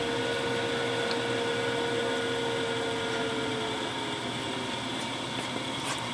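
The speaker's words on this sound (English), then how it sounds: "You're going to hear the drum motor over the fan." A small coffee roaster runs with a continuous, even mechanical drone, its drum motor audible over a quiet fan, steady throughout with faint clicks toward the end.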